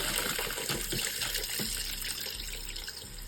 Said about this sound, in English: Water, cold water.